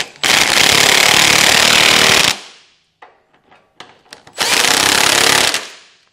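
Power tool driving a 17 mm socket to tighten Curt trailer hitch bolts on a 2020 Buick Enclave: two loud, sustained close-up bursts of rattling, hammering whir separated by a short pause with faint clanks.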